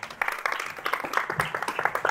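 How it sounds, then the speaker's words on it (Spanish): An audience claps and applauds at a Circus Day event and screening colloquium, a brief burst of scattered hand claps from a modest crowd, moderately loud and fairly close. "Un aplauso para el circo, ¿no? Para el Día del Circo."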